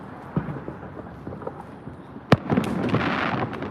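Fireworks go off during Chinese New Year: scattered distant pops, then one sharp loud bang followed by a sustained crackling barrage, with no voices.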